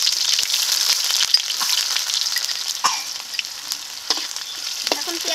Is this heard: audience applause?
no